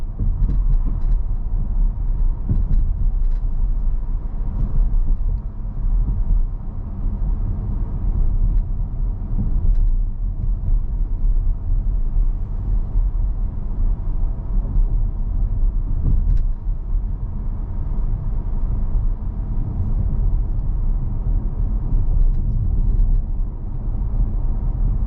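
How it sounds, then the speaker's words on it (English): A 2024 Volvo S90 T8 Recharge plug-in hybrid sedan drives over a rough unpaved road, giving a steady, loud low rumble of tires and suspension from inside the cabin, with faint knocks scattered through it. "just right here is where they stopped paving this road, and it's pretty rough, so let's get a feel for the suspension"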